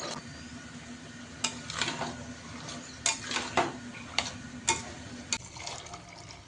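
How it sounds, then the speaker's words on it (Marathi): Water is poured into a pot of whole masoor lentils cooked with onion and tomato, with a soft liquid rush under repeated clinks and knocks of a vessel and utensils, close and moderately loud. "याच्यामध्ये पाणी ओतून अशा पद्धतीने आपल्या भाजीच्या प्रमाणामध्ये"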